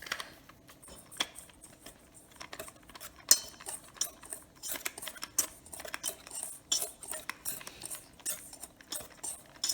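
A whisk clicks and scrapes steadily against a bowl while mixing dry chocolate muffin ingredients, a quiet irregular patter of light metallic taps throughout.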